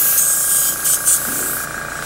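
An aerosol spray can hisses paint onto a bare plastic spoon in a few short bursts, close to the microphone, with a steady hum beneath.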